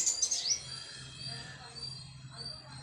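Birds chirping at a ball-shaped nest built at a house, a few faint high tweets at the start, then a low steady hum in a quiet background.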